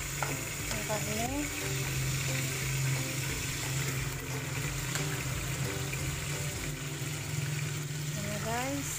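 Duck meat dropping into a hot pan for adobo duck with pineapple, a steady low sizzle and frying hiss that runs throughout, with occasional stirring and clinking in the background.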